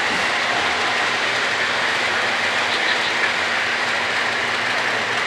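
Steady rushing rumble of four to five model trains running on a layout, a dense continuous hiss with faint clatter underneath, constant level throughout and no voices.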